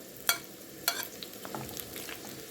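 Meat and onions sizzling and frying in a pan, with a couple of sharp scraping stirs near the start and soft crackling pops afterward.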